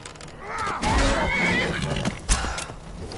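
A horse in the video game Skyrim gives a loud, drawn-out whinny close by, with hoof clatter and a thud near the end and a voice faintly under it.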